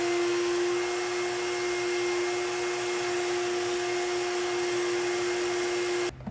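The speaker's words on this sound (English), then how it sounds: "now I'm just gonna go in with the shot vac and suck up that first round of gunk" A shop vac sucks carbon gunk out of the intake of a BMW E92 335i, a steady loud whining drone with a fixed tone that stops sharply near the end.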